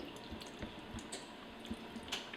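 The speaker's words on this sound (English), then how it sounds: "I'm gonna pour some water into the bottom of the pan" Water poured into the bottom of a pan holding a pumpkin for baking, heard as soft, close splashes and drips in a quiet kitchen.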